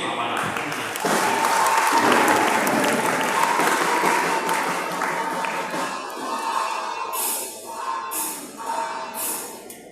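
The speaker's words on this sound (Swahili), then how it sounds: "Tupige makofi kwa Bwana." Congregation applauding loudly at a Christmas Day service in an FPCT church in Tanzania, a sustained wash of clapping and crowd noise that swells, then thins and tapers with a few scattered voices.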